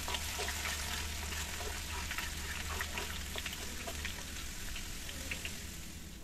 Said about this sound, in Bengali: রসুন কুচি এখানে আমি এটাকেও ফ্রাই করে নিব।